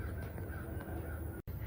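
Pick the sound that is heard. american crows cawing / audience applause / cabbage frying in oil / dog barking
american crows cawing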